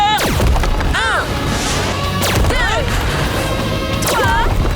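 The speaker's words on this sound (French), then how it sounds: "Tire au canon laser." Cartoon laser cannon on a robot monster truck firing at asteroids in an animated children's show: three sharp zapping blasts with bursts and crashes, loud and close, amid music and sound effects.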